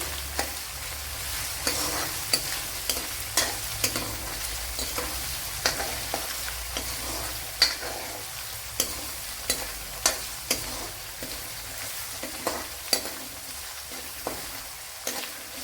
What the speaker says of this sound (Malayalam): ഇനി ഇത് നല്ലപോലെ ഒന്ന് മൂപ്പിച്ചെടുക്കാം അപ്പോഴ് വെളുത്തുള്ളിയൊക്കെ കുറച്ചൊന്ന് മൂത്ത് വന്നിട്ടുണ്ട്